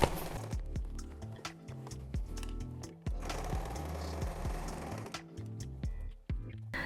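Sewing machine stitching together the sides of a faux leather triangular bag with lining, a steady run of mechanical needle clatter with short stops and restarts, close and fairly loud.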